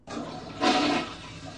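A toilet flushes in a hotel bathroom, a short whooshing rush of water that swells for about half a second and then drains into a softer trickle, heard close in a small tiled room.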